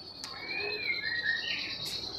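A young white-rumped shama, a murai batu about seven and a half months old with a high temperament, sings bright, rising and falling whistled phrases alone, fairly close and steady, with brief sharp chirps at the start and end.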